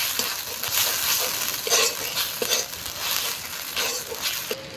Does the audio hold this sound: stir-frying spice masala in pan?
yes